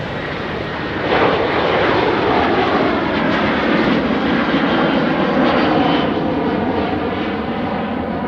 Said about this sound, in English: This took off a bit early than I expected.